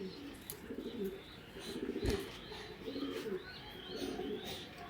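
Racing pigeons coo in soft repeated low calls close by, with a few higher bird chirps mixed in and no talking.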